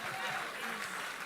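A conference audience in Abuja applauds as a steady, dense wash of many hands clapping, moderately loud and continuous throughout, with a faint murmur of voices mixed underneath.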